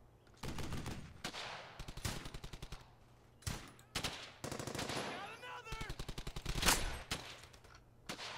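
Bursts of automatic gunfire and single rifle shots rattle through a World War II shooter, Brothers in Arms: Hell's Highway, in quick rhythmic volleys separated by short pauses, fairly faint overall with a brief voice between.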